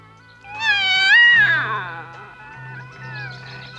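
A female cat meows in a drawn-out, rising and falling cry lasting about a second and a half, clear and close, then trails off into quieter, fading vocal tones.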